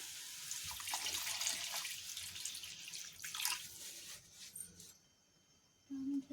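Water splashes and trickles steadily into a pan of Indian prawn curry with ground coriander, cumin and masala, before the pour stops and a brief low hum rises at the end.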